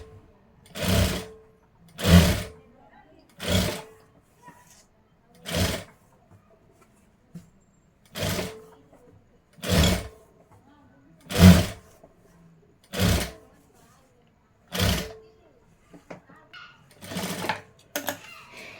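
Sewing machine stitching the hem of a blouse, short loud mechanical bursts of rapid stitching repeating in a steady start-stop rhythm, separated by quiet pauses.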